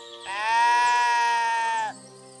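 A single long, loud sheep bleat close by, steady and wavering for under two seconds with nothing else around it, from a lost ram in the medieval game Kingdom Come: Deliverance II.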